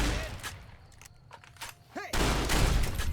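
Shotgun buckshot blasts in Fallout New Vegas, fired at Barton Thorne: a loud, broad roaring burst that lingers, with sharp shots earlier in the scene and nobody talking.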